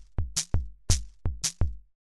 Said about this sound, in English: We can have 3 against 2, and that sounds like this.